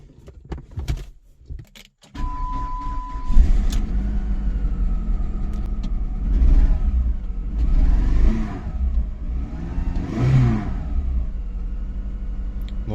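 A cruiser motorcycle engine, just repaired after misfiring on one cylinder, starts after a few clicks and settles into a loud close idle, rising in several smooth revs and falling back, with no talking.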